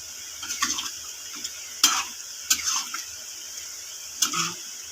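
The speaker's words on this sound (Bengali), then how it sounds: "ভাজা আলুগুলো দিয়ে দেবো।" Fried potatoes are added to a simmering chicken curry and stirred, giving a low steady sizzle broken by several distinct spoon scrapes and clinks against the pot, close by, with no talking.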